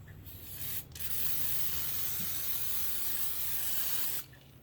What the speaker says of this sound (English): I've got it sprayed with some butter spray.